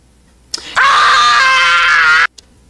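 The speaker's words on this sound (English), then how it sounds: "something called primal scream therapy, which is pretty much where you just scream at the top of your lungs" A single loud, sustained primal scream at the top of the lungs, held for about a second and a half, rises abruptly out of quiet and then cuts off.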